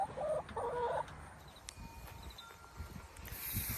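A runaway chicken clucking close by in a few short, throaty bursts at the start, followed by quieter scratchy movement and rustling in the yard.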